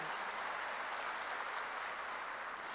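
A church congregation applauds during a Korean sermon, a steady, dense wash of many hands clapping together, fairly distant and even throughout with no voices on top.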